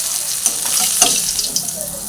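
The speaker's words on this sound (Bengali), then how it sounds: "মাছটা ভাজা হয়ে গেছে। এখন একটা একটা করে তুলে নেব।" Pieces of rohu fish fry in hot oil, a loud, close, continuous sizzle with scattered light pops and utensil taps, and no speech.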